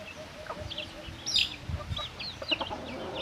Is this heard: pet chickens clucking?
yes